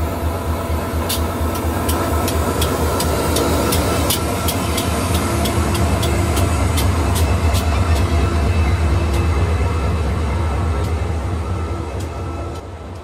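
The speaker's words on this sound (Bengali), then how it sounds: "আমাদের ট্রেন বেরিয়ে যাচ্ছে বাউরা স্টেশন থেকে।" Korotoa Express pulled by the gleaming 2615 locomotive rolls out of Baura station while crossing a commuter train, a loud, steady low rumble of wheels and engine with repeated sharp rail clicks throughout.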